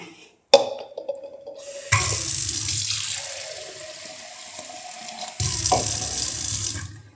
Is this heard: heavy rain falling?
no